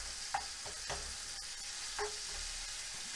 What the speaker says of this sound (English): Just trying to pre-cook the onions.